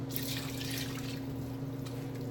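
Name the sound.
cup of water poured into cooking pot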